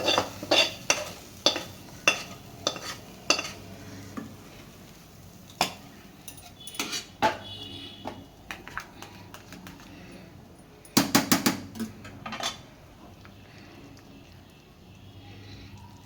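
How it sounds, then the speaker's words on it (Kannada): Bisibelebath being stirred in a cooking pot, a run of quick scraping and clinking strokes of a spoon against the metal, loud at first, then sparser with a few sharp knocks and faint gaps between. "ಇವಾಗ ಚೆನ್ನಾಗಿ ಮಿಕ್ಸ್ ಮಾಡ್ಕೊಳ್ಳೋಣ"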